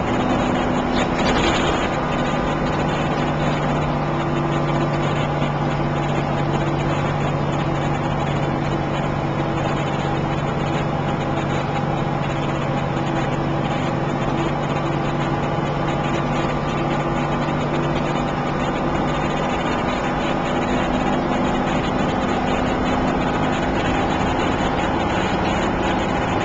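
A vehicle engine holds steady around 2100 RPM in low gear while descending a downhill grade, producing a continuous loud drone with steady low tonal hum and road noise throughout, no talking.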